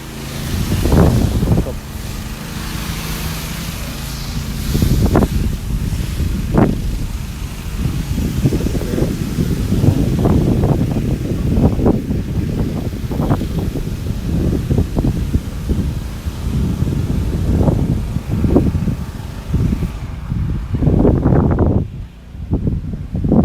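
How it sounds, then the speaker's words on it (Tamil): Steady wind buffets the microphone in Tenerife, Canary Islands, a constant rushing roar with faint voices and rustling underneath. "கொஞ்சம் காற்றடிக்குது."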